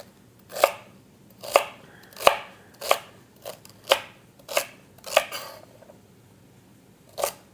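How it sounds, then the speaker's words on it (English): A knife chops celery on a cutting board in about nine sharp, evenly spaced strikes, each a crisp crunch with a short decay, close and clear in a quiet kitchen. "So this is now our celery, and I'm going to just cut it into similar size, similar thickness that I did with the carrots"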